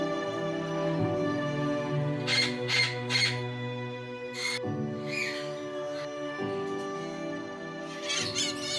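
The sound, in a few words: parrots squawking at a parrot sanctuary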